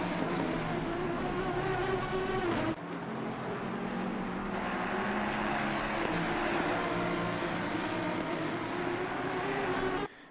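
GT3 race cars lapping the Snetterton circuit during a British GT3 session, a continuous loud engine roar with shifting pitch as cars pass, one sharp break in the tone partway through and an abrupt cut at the end.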